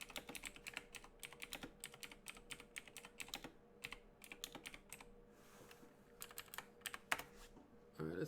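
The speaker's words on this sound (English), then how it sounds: "Let me type it up on the side." Computer keyboard keys clatter in quick irregular bursts with short pauses between, close and crisp, while looking something up during a Raid Shadow Legends game.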